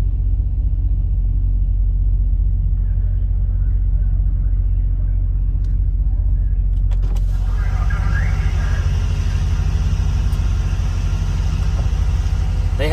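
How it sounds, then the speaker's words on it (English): Pickup-style truck cab buffeted and rocking in severe thunderstorm wind: a steady, loud low rumble throughout, with a harsher broadband roar of gusts and rain swelling in after the midpoint. "That's the truck rocking"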